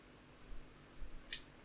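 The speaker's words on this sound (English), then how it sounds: "rather than use scissors, I like using my trusty nail clippers" Nail clippers snip through a cable while a right wheel motor is fitted on a model R2-D2 build, giving one sharp, quiet click after a couple of faint handling taps.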